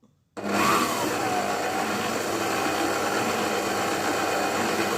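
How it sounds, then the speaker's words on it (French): A stand mixer slowly beats muffin batter at low speed, a steady continuous whir that starts abruptly after a brief silence and holds an even level throughout, with no talking. "Et on vient mélanger tout ça dans notre batteur. Et on mélange tout doucement."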